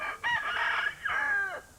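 A rooster crows close by, one drawn-out call in two rising-and-falling parts, clear and alone, on a Cotswolds farm keeping Burford Brown and Cotswold Legbar chickens.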